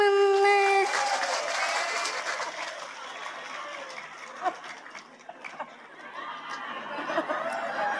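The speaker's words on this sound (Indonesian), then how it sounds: "Tepuk tangan." Clapping and laughter spread through a seated audience at a religious sermon, starting after a brief sung tone and continuing as a moderate, uneven round of applause with chuckles mixed in.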